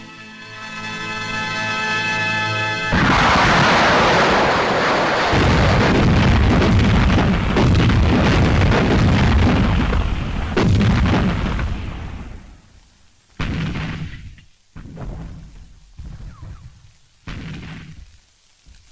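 WWII artillery guns fire in a 1945 war film soundtrack: a long, dense roar of explosions and gunfire, then several separate heavy booms with gaps between them, loud and rumbling.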